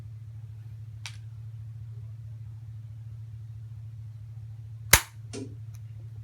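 A gunshot in the Virtual-Shot zombie shooting video game sounds as one sharp crack, followed by a brief softer hit, over a steady low hum, with a faint click a few seconds earlier.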